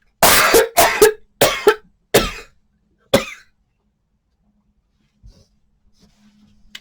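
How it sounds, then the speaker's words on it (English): A person coughs five times in a quick, loud, close series, with short gaps between the harsh bursts, after which it falls nearly silent apart from faint small rustles. "I'm going to start coughing,"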